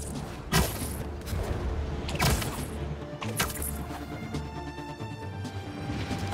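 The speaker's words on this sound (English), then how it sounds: "Someone's playing with fireworks?" Fireworks explosions in the Marvel's Spider-Man 2 video game, a few sharp loud bangs and crackles over a dense rumbling city backdrop, with fizzing crackle toward the end.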